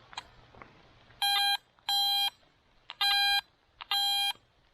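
Garrett AT Max metal detector sounding four clear, sustained high tones in an uneven rhythm over an aluminum can, each lasting about a third of a second, loud and close against a quiet background.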